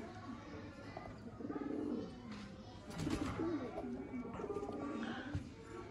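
A pigeon coos softly up close in low, rolling phrases, while someone talks over it and a few faint chirps sound in the background.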